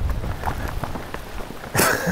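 Steady patter of rain in the Maine backcountry woods under scattered rustling and footsteps, ending in a louder burst of close splashing or brushing.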